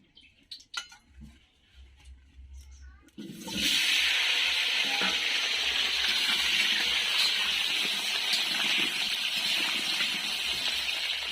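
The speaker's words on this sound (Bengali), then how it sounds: "তেল গরম হয়ে গেছে, এবার আমি আলুগুলো ভেজে নেব।" Potatoes fried in hot oil in a village kitchen: a few light clinks and taps, then a sudden loud, sustained sizzling roar as they go into the oil, which keeps bubbling steadily to the end.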